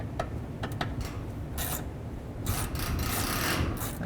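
Screws are driven and snugged down on a fog light of a 2005-10 Jeep Grand Cherokee, giving close, scratchy ratcheting and rasping bursts with a few short clicks between them.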